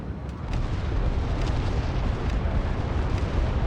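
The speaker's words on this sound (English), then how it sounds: "I'm also putting an artillery strike on that eastern part of the point." Artillery strike in the video game Hell Let Loose, a dense, loud, continuous roar of explosions and rumbling blasts that fills the whole stretch, with no voices.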